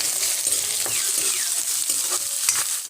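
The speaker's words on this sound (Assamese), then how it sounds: "আৰু এইখিনি এতিয়া অকণমান মই ভাজি লম।" Onion, green chilli, bay leaf, ginger and garlic frying for Assamese moong dal make a loud, steady hiss and sizzle with faint stirring scrapes, cut off abruptly at the end.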